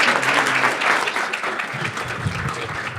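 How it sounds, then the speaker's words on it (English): An audience at a weekly meeting applauds, a dense wash of clapping hands that holds steady for a few seconds and then thins slightly near the end. "let's have another round of applause."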